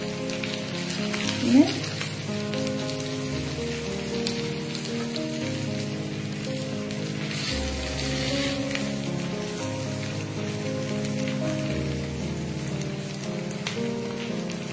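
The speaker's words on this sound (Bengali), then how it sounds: "এবার এই জালতিটার উপরে আমি চিকেনে গুলো রাখবো।" Tandoori chicken sizzling steadily on a wire grill rack over a low flame, a continuous crackling hiss like light rain that holds close and even throughout with no talking.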